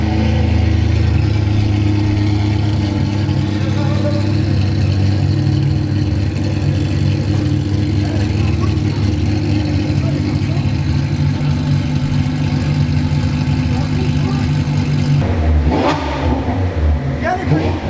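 A Ferrari Testarossa engine runs loud and close at a steady idle with rising revving swells, a sharp burst near the end, while people talk over it.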